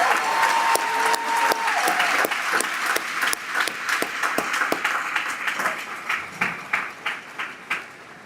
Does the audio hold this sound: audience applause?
yes